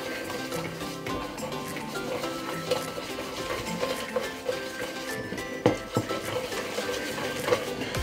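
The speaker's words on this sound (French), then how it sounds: "Maintenant, on va rajouter notre farine. On mélange." Flour being stirred into a cod fritter batter for Creole accras, a continuous scraping and clinking of a utensil against a bowl with busy mechanical rattles throughout.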